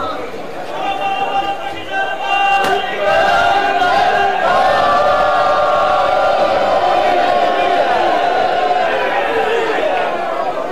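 A large crowd at a Majlis gathering in Karachi chants a reply to the Naara-e-Takbeer slogan, a loud sustained roar of many voices filling the space.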